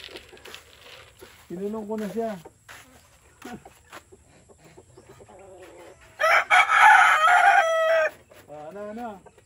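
Chickens kept in a cage, a rooster crowing twice with a loud burst of clucking and squawking between, plus short scattered clucks and a faint bit of talk.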